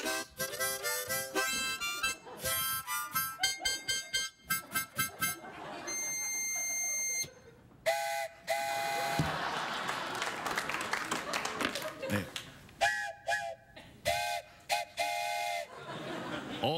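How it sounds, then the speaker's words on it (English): Steam train whistle blasts, several short toots followed by a longer sustained blow, ring out before a studio audience on a late-night talk show, with applause and cheering breaking in between the whistles. "It's a steam train."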